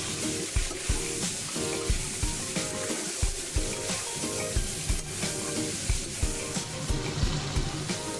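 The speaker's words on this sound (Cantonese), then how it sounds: "又再煎咗2-3分鐘啦，又兜兜佢啦" Duck pieces stir-fried in a pan with shallots, garlic and ginger for braised duck with chuhou paste, giving a steady close sizzle broken by repeated scraping and tossing knocks of the spatula, with no talking.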